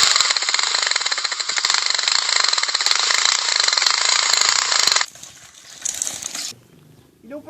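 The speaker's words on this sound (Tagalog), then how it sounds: "Kunin ko lang ang motorsiklo ko" A motorcycle engine runs close by with a loud, harsh, buzzing drone for about five seconds, then cuts out and leaves quieter rustling and handling noises.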